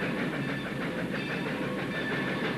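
A train rolls along railway tracks with a dense, steady rumble and hiss, faint rhythmic clacking running evenly throughout, with no voices.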